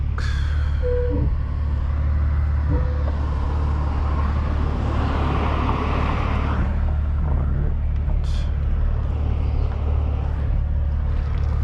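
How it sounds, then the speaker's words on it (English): A 2013 Hyundai Genesis 3.8 with a transmission fault stuck in fifth gear drives through traffic, a steady low engine and road rumble heard from inside the cabin, with brief faint clicks. "This is going to be its first drive out"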